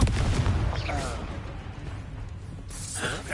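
Confringo blasting spell in Hogwarts Legacy, a loud booming blast at the start trailing into rumble, with a second sharp burst near the end.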